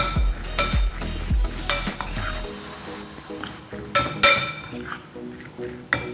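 Tuna salad with mayonnaise being mixed with a spoon in a bowl: repeated clinks and scrapes of metal on the bowl in irregular bursts, close up, no one talking.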